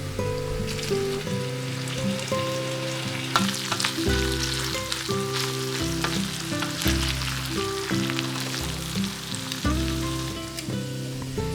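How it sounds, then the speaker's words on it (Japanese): Ground pork and potatoes sizzle and crackle steadily while stir-frying over medium heat in a frying pan, a continuous close hiss with occasional stirring scrapes, under background music and no talk. "お肉の色が変わってきたら、じゃがいもを加えてさらに炒めます。"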